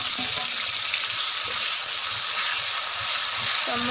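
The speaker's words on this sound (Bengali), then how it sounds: "এবার আমি আলুটাকে একটু ভাজা করে নেব ভালো করে।" Potato pieces fry in hot oil in a pan for a fish curry, giving a steady, close, continuous sizzle with faint stirring scrapes; no talk.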